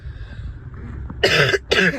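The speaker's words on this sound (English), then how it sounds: "Excuse me for coughing." A person coughs twice in quick succession, close and sharp, after a stretch of quiet room noise.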